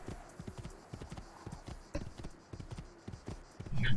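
Horse hooves clip-clop steadily in the video game Assassin's Creed II, a repeated run of crisp, close footfalls at a walking-to-trotting pace, with a louder scuffle near the end.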